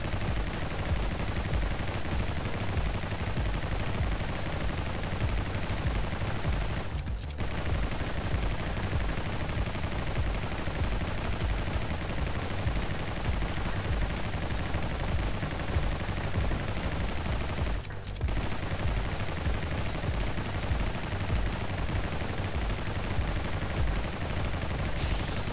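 Rapid gunfire in the indie roguelite shooter Nimrods Gun crackles in a dense, continuous barrage, with two brief gaps breaking the steady stream of shots.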